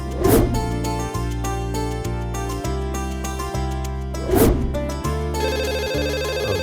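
A telephone ringtone sounds in a Tamil TV drama scene, loud and melodic over rhythmic background music.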